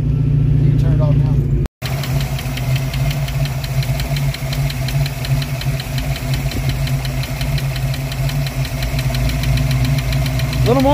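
A worn Ford Mustang engine running and given gas: a loud, steady rumbling drone with a knocking edge fills the whole clip, briefly cutting out once near the start, while people talk over it.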